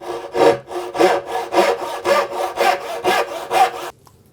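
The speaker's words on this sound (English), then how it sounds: "So set it at that, and then follow your depth gauge all the way down the side of the board." A handsaw cuts an angled dovetail in a wooden board with about eight even, rasping strokes in a steady rhythm, close and alone, before stopping abruptly.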